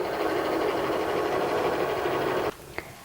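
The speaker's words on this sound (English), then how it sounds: "And now it's done cutting because the button is flashing, so we can remove it from the machine." A Cricut cutting machine cuts a scalloped edge design with a continuous close mechanical buzz, which stops abruptly and is followed by one short click.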